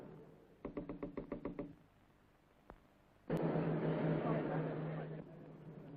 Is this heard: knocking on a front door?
yes